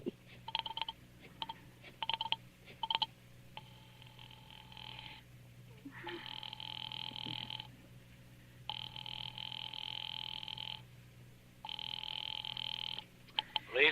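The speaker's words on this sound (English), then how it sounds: "Ringing the police department." A telephone rings through on a call to the police department, several long buzzing rings separated by silent gaps, heard over a line after a few brief clicks, with no talk.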